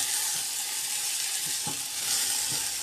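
Potatoes frying in a pan for ground-meat sauté: a dense, even hiss of oil fills the clip, with a few soft knocks and scrapes of a spoon stirring, close and without talk.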